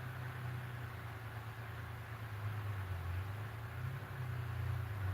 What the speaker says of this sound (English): I don't know if that's a damn truck or a tractor off in the distance